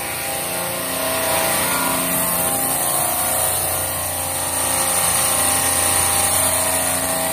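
A refrigeration system pumps down its liquid line receiver with a steady mechanical compressor drone and hum, continuous and fairly loud, with no talking.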